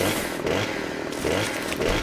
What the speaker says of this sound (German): So, dann werden wir den einmal schön entasten.